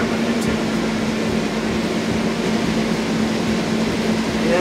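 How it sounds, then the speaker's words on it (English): A CR Revelation combine harvester runs with a steady, unbroken mechanical drone and a constant hum, close and even throughout. "I'm just trying to make sure I get the combine in that optimum spot for the crop load that we're coming into."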